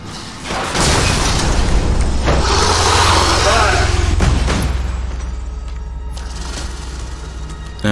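Gunfire in the turn-based game Space Hulk: Tactics produces a loud, sustained booming burst with heavy low rumble, and mechanical clanks follow as it fades. Someone speaks over part of it.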